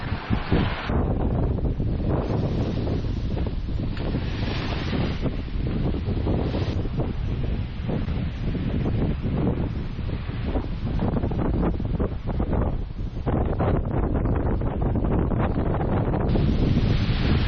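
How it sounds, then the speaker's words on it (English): Strong wind buffets the microphone in a loud, continuous roar, surging and easing with gusts, with a hint of water lapping beneath from waves on a lake in the Lake District, Cumbria, during a storm warning. "There are actually waves on the lake, it's that windy out there."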